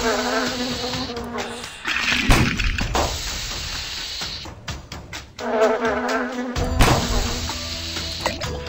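Wasps in the potion-brewing game Potion Panic 2 buzzing in close, steady droning bursts, interrupted by sharp clattering impacts and brief quieter gaps.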